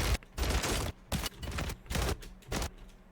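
Repeated bursts of gunfire in Call of Duty: Warzone, several loud rapid volleys broken by brief pauses, close and dominant with no talking.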